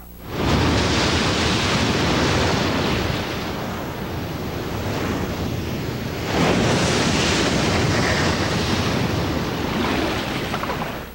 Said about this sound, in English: Then comes the water. The sound of a lion roar has been added to give the waves massive power.